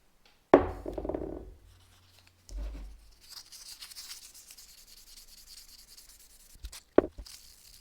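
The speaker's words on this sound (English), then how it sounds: "Then I lightly sand them with 2000 grit wet sandpaper under WD-40." Wet sanding of a BMW 2002 brake caliper part with 2000 grit wet sandpaper and WD-40, a close rubbing scrape in one burst near the start, then quieter handling noises and a sharp tap near the end.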